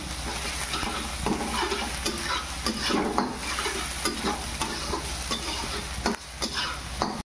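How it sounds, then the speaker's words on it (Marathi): Spoon stirring a bread pakoda filling as ginger-chili paste is mixed in, a steady close scraping and soft sizzling that runs alone for several seconds with occasional louder strokes against the pan. "मिरचीची पेस्ट, आता चांगलं आपण मिक्स करून घेऊ"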